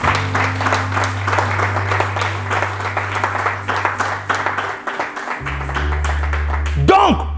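A church congregation applauding, a dense run of clapping from many hands under a sustained organ or keyboard chord, while a preacher's voice carries over it.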